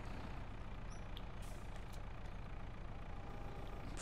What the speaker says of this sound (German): ich hole mal einfach den Telelader hier